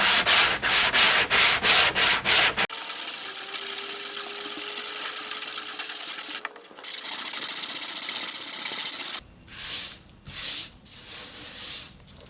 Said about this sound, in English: So we're just going to keep sanding this and see what happens.